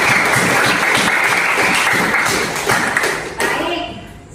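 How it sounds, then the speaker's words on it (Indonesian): A classroom of students breaks into sustained applause for a classmate after a biotechnology answer, loud and dense clapping filling the room, with chatter mixed in, tapering slightly toward the end. "Beri aplaus untuk Yuda."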